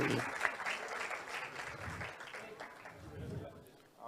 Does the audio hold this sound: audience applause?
yes